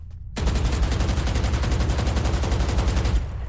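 Rapid automatic gunfire in a video game, fired by Brimstone under his stim beacon, a loud, fast, even burst of shots lasting about three seconds after a brief quiet start.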